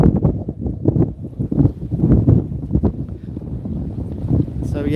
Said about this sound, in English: It might be a little windy, so the wind just won't quit here